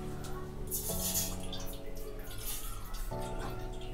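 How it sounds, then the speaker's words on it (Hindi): A little water poured into a bowl sitting on a gas stove, a brief splashing trickle close up over a low steady hum, with no one talking. "इसमें हम थोड़ा सा करेंगे वाटर ऐड"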